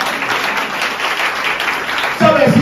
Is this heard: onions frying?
no